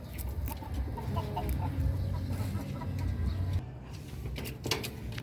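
Several chickens cluck and murmur nearby in a soft, continuous chatter, with occasional sharper clucks and faint background rustling.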